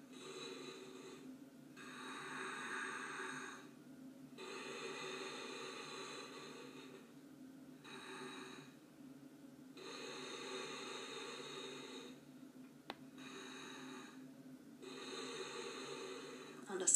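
Deep, slow breaths during a seated yoga twist for skiers, inhales and exhales alternating in long rhythmic bursts, close to the microphone and otherwise quiet.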